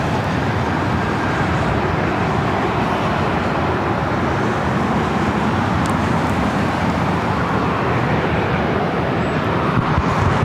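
Delta Airlines A321neo airliner near LAX, a steady loud broadband roar of jet engines filling the whole stretch, with constant rumble and no voices.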